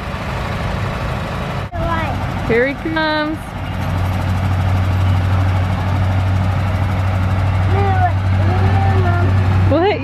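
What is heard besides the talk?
John Deere tractor engine running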